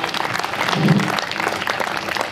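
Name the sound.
audience applause for Pankaj Udhas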